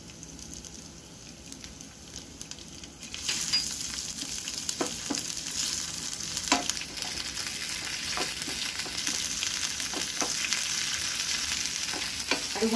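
Ginger, chili and garlic paste frying in a small amount of oil for moong dal chilla, a steady sizzle that swells after a few seconds, with occasional scrapes of stirring through the crackle.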